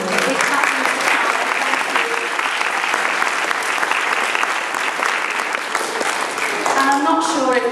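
Loud, sustained applause from an audience at a primary school nativity play fills the room from start to finish, with a voice speaking over the clapping near the end.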